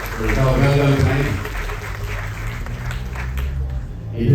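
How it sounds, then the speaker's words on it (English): Audience at an outdoor Ramayan recitation in the park clapping in a steady round of applause, loudest at the start, easing off midway and swelling again at the end, with a voice speaking over it. "give our Vyashi a nice round of applause for your job well done tonight"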